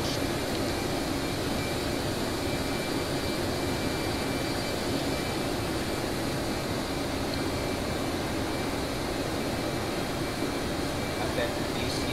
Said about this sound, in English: I got a visual on that F-22 down there playing around.